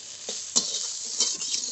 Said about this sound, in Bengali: শাক ভালো করে নেড়ে নেড়ে সব জল শুকিয়ে নিয়েছি